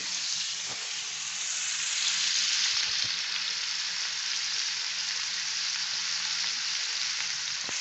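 Garlic frying in a pan for a sautéed tuna breakfast, a loud, continuous hissing sizzle heard up close and unbroken for several seconds, with no voices.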